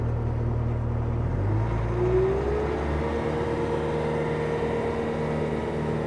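A 2015 T630 loader's diesel engine idles and runs steadily with a low droning hum, its pitch rising slightly partway through as it settles, close and continuous with no talk.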